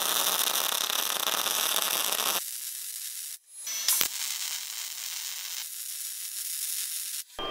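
A Jasic Evolve 200 MIG welder lays beads on 3 mm steel with its voltage trimmed back partway, giving a loud crackling, sizzling hiss in several bursts separated by brief stops.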